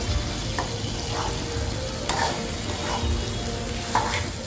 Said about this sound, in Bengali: এই ছোলাটা সেদ্ধ করা এটা দিয়ে দিলাম। দিয়ে এবারে ভালো করে এটাকে নাড়তে হবে।